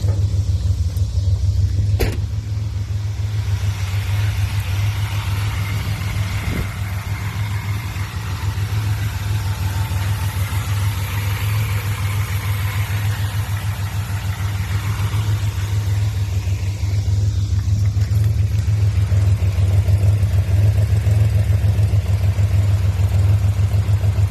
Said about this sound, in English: Sounds like I got a little bit of an exhaust leak up here.